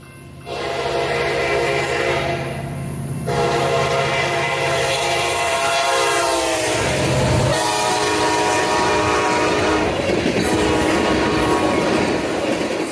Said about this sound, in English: a Union Pacific SD70 ACE leading the Superior to Northtown